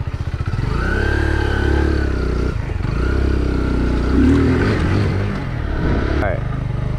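2021 Kawasaki Z125 small motorcycle being ridden, its engine droning steadily near and loud with a brief dip in revs, then a short clatter near the end.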